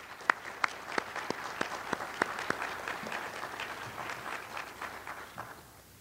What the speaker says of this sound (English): let's give a round of applause for Oscar Larson, the AAG.